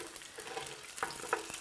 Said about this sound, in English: We have here some tofu frying.